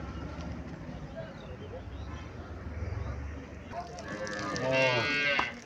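At a cattle market in Chauara, Comilla, a low rumble of crowd murmur and voices gives way to a single clear, drawn-out moo from nearby cattle near the end.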